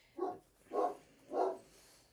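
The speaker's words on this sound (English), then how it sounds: "My dog is just going crazy because my husband's home and she needs to defend that." A pet dog barks inside a home three times in a row, evenly spaced and fairly faint, with nothing else around the barks.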